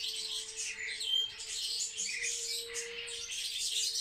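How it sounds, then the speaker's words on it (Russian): Swallows chirping indoors in a home, a busy stream of high twittering calls and chatter from close birds, continuous and lively over a faint steady hum. "это ласточки"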